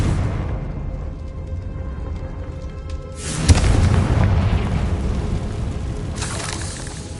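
A Confringo fire spell explodes in the video game Hogwarts Legacy with a sudden loud boom midway, followed by a sustained rumbling roar and debris noise over steady game ambience.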